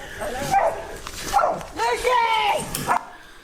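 A dog fighting a raccoon outdoors during a fishing trip, with a rapid series of sharp barks, yips and whimpering yelps in close, loud bursts separated by brief pauses.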